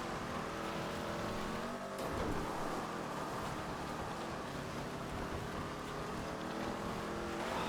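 A car engine in the video game GTA 5 drones steadily and loudly throughout, a continuous revving roar with no talk over it.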